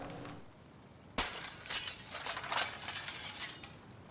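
A glass window is smashed in Detroit: Become Human with one sudden crash after a quiet moment, then a few seconds of tinkling, scattering shards.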